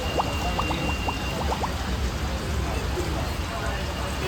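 Rain falling on a tin sheet roof, a constant dense patter with scattered sharper drop ticks, heard close and fairly loud, with voices talking faintly underneath.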